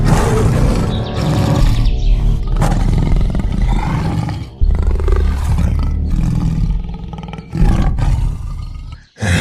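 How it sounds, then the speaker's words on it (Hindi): A cartoon tiger lets out a long, loud, growling roar from a cave, the sound rumbling and swelling in waves for several seconds with brief breaks. "ठीक तभी गरजते हुए गुफा के अंदर से निकल आई एक बाघ।"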